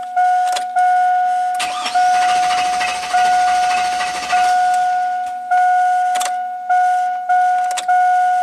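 GM Chevy V8 with an intermittent crank-start fault cranking with the gas pedal partly pressed, loud repeated starter whirs in regular surges alongside a steady high warning chime, without catching.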